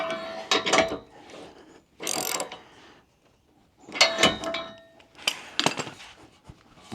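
Metallic ratcheting and clinking from a wrench tightening bolts on an aftermarket CATuned bumper bar being fitted to a 2024 Subaru Outback Wilderness, heard in four separate bursts with short pauses between them.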